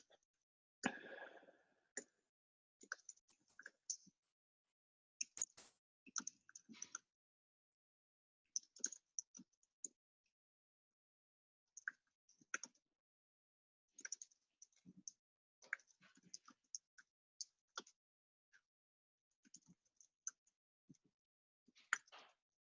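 Someone types on a computer keyboard in a quiet room, with short clusters of soft clicks separated by pauses, fairly close and alone.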